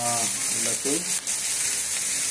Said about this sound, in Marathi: जसा कांदा भाजला गेला त्यानंतर खोबरं, सुकं खोबरं, ओलं खोबरं.